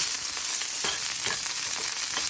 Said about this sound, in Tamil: வெங்காயமும் கருவேப்பிலையும் போட்டுக்கலாம்.